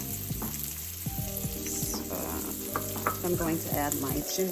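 Olive oil sizzles and crackles in a pan, steady and close, with stirring scrapes, a faint melodic background tone and some talk.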